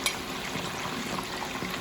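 Chicken wings fry in a pot of oil, giving a dense, even sizzling hiss with faint bubbling and an occasional soft clink, continuous and close without any talk.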